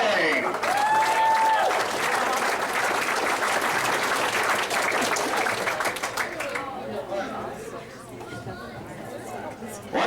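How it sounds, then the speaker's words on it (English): Loud applause and chatter fill a racing banquet hall as the crowd honors the Brown County Speedway late model drivers, dense clapping fading after about six seconds into lighter clapping and murmuring voices. "Once again, a big round of applause for all the late model drivers."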